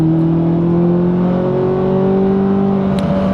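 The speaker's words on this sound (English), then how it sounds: "The way the engine revs, it's nuts." A 2025 Corvette C8 Z06 engine revs hard on a race track at Circuit Zolder, a loud, steady, close-up drone with harmonic pitches climbing slowly, heard alone with no talking.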